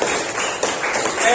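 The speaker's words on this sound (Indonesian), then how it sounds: "Oke, tepuk tangannya." A classroom of students breaks into applause, a dense run of many hands clapping at close range that carries steadily through the whole short burst without any voices over it.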